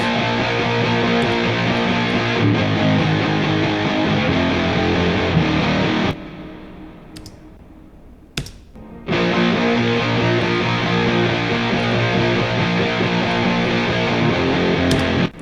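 A heavily distorted electric guitar plays thick, sustained chords, breaks off briefly into near silence with a few faint noises, then returns at full volume.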